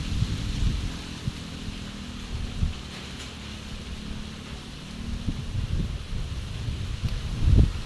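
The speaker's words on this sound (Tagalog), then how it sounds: "Sobrang lakas ng ulan." Very heavy rain pours steadily, with low rumbling bursts of thunder and wind buffeting the microphone, especially loud near the end.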